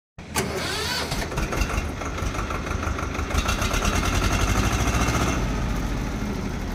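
A Swaraj 724 XM Orchard tractor with a two-cylinder engine cranks and fires, then settles into a loud, close, evenly thumping diesel run that holds steady to the end, with no voices.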